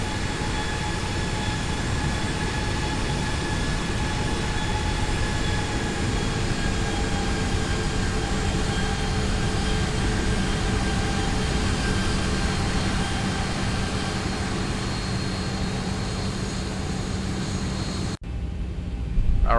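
A steady, loud jet engine drone and rumble as a Boeing 737 sits ready for takeoff in the X-Plane 12 flight simulator, continuous and even, ending with an abrupt cutoff and no talk.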